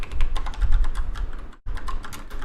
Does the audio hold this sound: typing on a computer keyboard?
yes